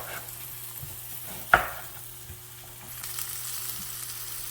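Meat searing in a hot pan gives a low, steady sizzle under a constant hum, broken by one sharp clunk near the middle as the pan or meat shifts. No one speaks.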